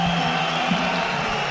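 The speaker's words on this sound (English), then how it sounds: "just hear the reaction from the crowd" A fight-night arena crowd cheers as a fighter walks out for a DFC 2.0 bout, a steady, dense roar of voices holding at an even loudness throughout.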